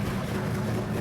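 Rough, low idling rumble of a hot rod engine with an exhaust leak, a steady near throb with a raspy edge filling the whole second.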